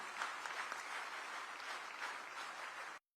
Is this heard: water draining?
no